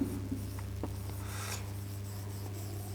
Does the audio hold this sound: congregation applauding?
no